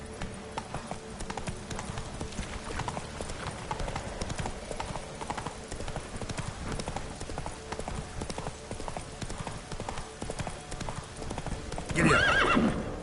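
A horse gallops in the video game Witcher 3, its hooves beating in a rapid, steady clip-clop. Near the end the horse gives a sharp, loud whinny.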